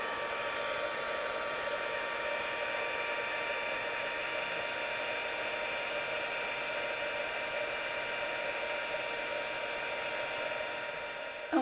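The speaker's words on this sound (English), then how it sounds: "I'm going to just heat set these, and that's going to take just a bit of time" Heat tool blowing hot air to set stamped embossing powder on handmade paper gift tags; a loud, steady, even whooshing hum that runs unbroken throughout, with no talking.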